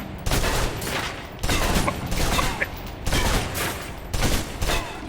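Gunfire at a target in the video game Alpha Protocol, heard as repeated bursts of rapid shots in roughly one-second clusters, loud and close, with short lulls between volleys.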